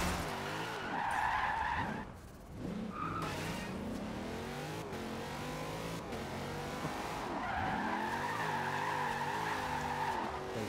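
Tires squeal and skid in a long drift in Forza Horizon 2, with an engine droning underneath and rising, warbling screeches that come back after a brief dip. Loud and close, with no talk.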